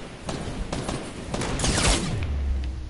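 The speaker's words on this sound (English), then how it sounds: "I just got a sniped from afar in the distance" A video game gunfight with several sharp shots spread across the clip and a louder, longer blast near the middle, followed by a low rumble.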